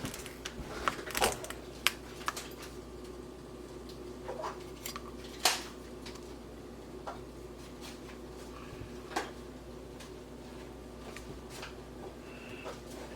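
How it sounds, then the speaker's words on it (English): A knife chops broccoli on a cutting board at home, with a handful of sharp, irregular cuts and taps standing out over a quiet room hum. "I'm gonna cut up a little bit of broccoli and boil that as well"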